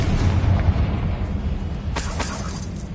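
A Confringo blast spell explodes in Hogwarts Legacy, a deep rumbling boom with crackling debris and a few sharp cracks trailing off afterward.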